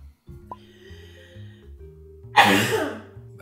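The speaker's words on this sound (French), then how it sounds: "pourquoi t'as toussé d'un coup?" A sudden harsh cough bursts out after a stretch of quiet low background sound, loud and close, trailing off over about a second.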